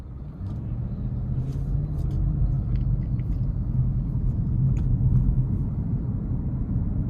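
2021 Audi RS6 Avant engine and sport exhaust while driving, a deep steady rumble with low drone heard from inside the car, constant and fairly loud, with faint scattered clicks and rattles above it.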